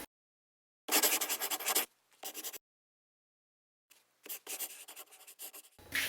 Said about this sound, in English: Maybe just write a simple line across the bottom.